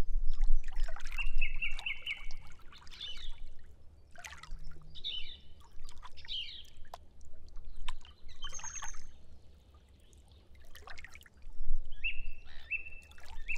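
Water trickling and lapping gently at a lake, soft and fairly close, with intermittent bright birdsong chirps above it and pauses of near quiet between the splashes.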